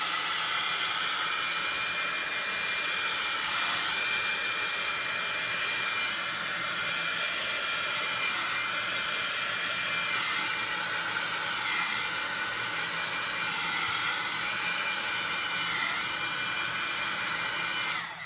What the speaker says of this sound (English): So I'm going to hit these real quick with the heat tool.